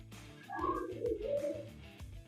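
A young bird gives soft, low cooing calls, a couple of close, rolling coos that rise and fall over about two seconds against a quiet background.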